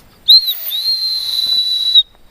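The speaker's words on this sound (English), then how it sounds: "Oh, and this is actually a whistle." A whistle built into a survival knife gets one sustained blast, a piercing shrill tone that starts with a sharp burst, holds for nearly two seconds and then cuts off, close and loud, with no talk.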